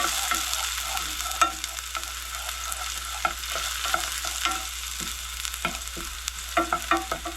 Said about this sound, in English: I'm going to lightly saute them.